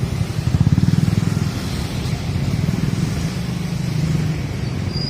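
Road traffic near Robinson Mall rumbles steadily, with close motorcycle engines putting out a throbbing pulse early on and cars idling and crawling in slow congestion.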